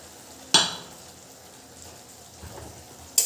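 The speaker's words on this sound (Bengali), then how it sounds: "এবার আমি মশলাটা ভালো করে কষিয়ে নেব।" A masala paste of salt, turmeric, Kashmiri chilli powder and a splash of water fries in a pan with a soft, steady sizzle, broken by two sharp clanks of a spoon against the metal.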